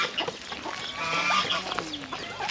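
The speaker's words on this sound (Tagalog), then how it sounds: "may bago tayong manok na naman may mga sisiw" Hens clucking close by on a Philippine farm, with a brood of young chicks among the new chickens, a busy run of overlapping clucks and peeps with no talking.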